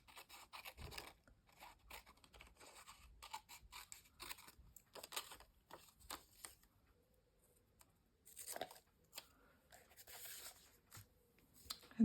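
Scissors cutting paper for a ledger art journal, sparse quiet snips and light scraping sounds scattered with irregular gaps, faint and close.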